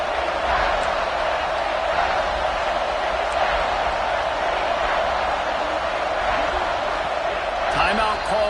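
A loud, dense football stadium crowd roars continuously, a steady wall of cheering and noise that never lets up.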